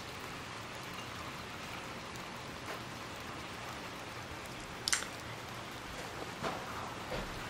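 Pouring rain in the video game Little Nightmares 2, a steady soft hiss of rainfall throughout with a couple of faint splashy footstep-like thuds, no voices.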